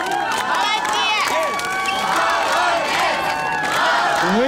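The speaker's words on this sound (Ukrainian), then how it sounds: "Ось зараз під час, коли ви аплодуєте." An outdoor karaoke show audience on a public square cheers and shouts in a lively, continuous roar, with whoops and voices rising over a dense crowd clamor.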